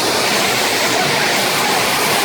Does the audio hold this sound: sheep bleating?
no